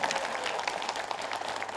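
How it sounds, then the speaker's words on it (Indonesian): An audience at an Islamic religious study gathering breaks into brief, dense, steady applause of many hands clapping at once. "Tepuk tangan lah Bu."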